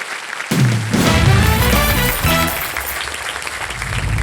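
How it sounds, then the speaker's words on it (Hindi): A studio audience on the game show Wheel of Fortune breaks into loud, dense applause that starts abruptly and keeps going, with no voices over it. "जोरदार तालियां सिद्धू साहब के लिए।"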